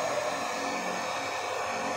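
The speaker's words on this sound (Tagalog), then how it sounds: "Pakinggan nyo guys yung tunog ng kanyang motor." Blower motor of a substitute hot air rework station running at low voltage, a steady airy whoosh with a faint hum, continuous and close with nothing else over it.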